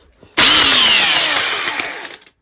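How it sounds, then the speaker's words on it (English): A power-driven wire wheel scours a degreased Turbo 350 transmission for a 1964 Chevrolet C-10 in one loud, close, harsh burst lasting about two seconds. It then whines down as the motor slows, with no speech. "Now I'm going to hit it with the wire wheel"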